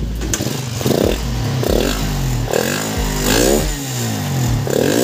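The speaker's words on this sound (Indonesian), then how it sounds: "Tinggal kita coba untuk hidupkan di sini guys untuk motornya guys." A Suzuki Satria FU150 motorcycle engine, just started after a rough-running fault was fixed, revs in several short throttle blips over a steady idle, close and loud, with no voices.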